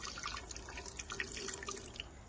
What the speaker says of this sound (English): Let me just pour some to the blender right here.